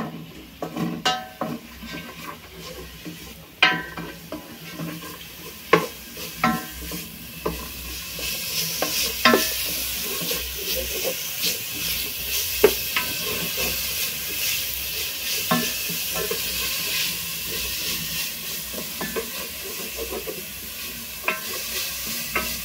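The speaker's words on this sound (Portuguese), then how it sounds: "Para refogar aqui o arroz." Rice sautéing with onion in lard in a pan, a continuous sizzle with frequent scraping stirs and clinks of a utensil against the pot, close up and steady throughout, no voices.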